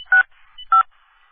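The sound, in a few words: telephone touch-tone dialing on a phone line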